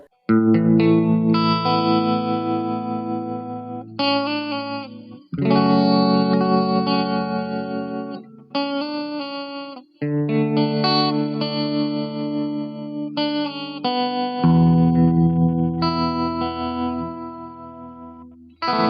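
An electric guitar run through effects plays strummed chords and sustained notes with a chorus-like shimmer and some distortion, loud and alone with no voices.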